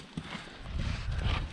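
Hooves of a large horse wearing a new vaquejada saddle clop a few times on the ground, muffled thuds that grow louder over a brief moment.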